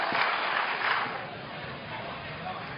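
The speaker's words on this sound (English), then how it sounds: "Can we please hold the applause?" Sustained applause from a debate audience fills the room, dense and fairly loud at first, then easing slightly while still carrying on steadily.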